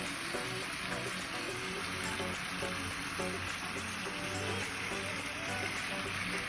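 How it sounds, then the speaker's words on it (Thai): Beef and miso sauce stir-fry sizzling steadily in a hot pan, a dense continuous hiss with soft scraping stirs underneath, close and even throughout, no talking. "ผัดเนื้อกับซอสมิโซะให้เข้ากันนะคะ"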